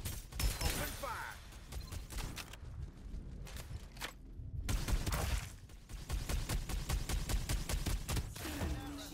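Gunfire in the video game Farlight 84 comes in rapid bursts and scattered shots, mixed with game effects and a spoken voice, pausing briefly near the middle before the bursts return.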